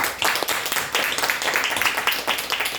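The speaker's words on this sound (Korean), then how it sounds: "하나님 앞에 영광의 박수를 올리겠습니다" A church congregation at a New Year's worship service claps together in a fairly even rhythm, a room full of hands beating in unison at moderate loudness, a few voices mixed in.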